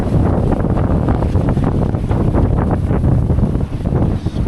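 Strong wind buffets a sailboat underway at sea, with a loose sail flapping and rattling hard overhead in a dense, continuous roar that never lets up.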